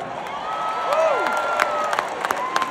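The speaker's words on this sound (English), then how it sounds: "give yourselves a round of applause for showing up" A concert crowd at an outdoor waterfront music pavilion applauds, scattered clapping and a few whoops at middling distance, with sharp individual claps near the end and a sung or spoken voice over it.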